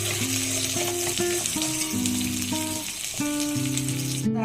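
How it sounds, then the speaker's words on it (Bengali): Potato and singhi fish fry with ginger and cumin in a pan, a steady close sizzle running under music with clear tonal notes, no talking. "এখন কষিয়ে নিচ্ছি একটু আলু আর মাছ দিয়ে আদা জিরের সঙ্গে"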